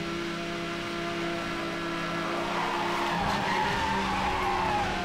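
A car in the racing game Need for Speed Hot Pursuit Remastered drifts through a corner, its tires skidding and squealing loudly and continuously over a steady engine drone, with no voices.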